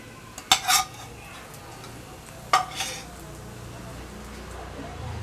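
A dosa cooking in ghee on a pan, a low steady sizzle with two brief bursts of spatula clatter against the pan, close and moderate, no talking.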